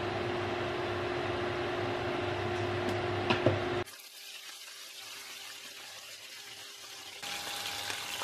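Fish fries in a pan: steady sizzling and crackling fills the first few seconds, then drops to a quieter hiss with faint clinks, the sizzle swelling again near the end.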